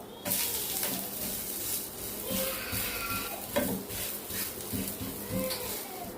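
A coconut dosa sizzles in oil on a hot pan as it is flipped, with bursts of crackling frying, scraping and clatter from the turn, close and moderately loud.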